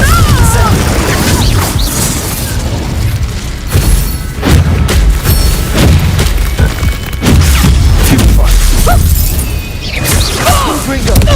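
Confringo blasting spells in Hogwarts Legacy go off as loud booms and crashing blasts, repeated with whooshes throughout a busy combat mix. Voices are heard among the explosions.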